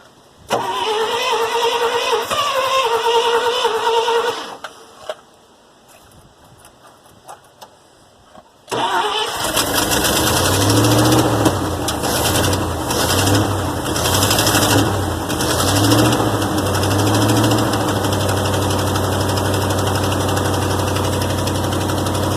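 A 1966 International cabover truck engine, starved for fuel, runs roughly and cuts out, followed by a quieter stretch of clicks, then cranks and catches into a loud, slightly uneven idle that continues close by.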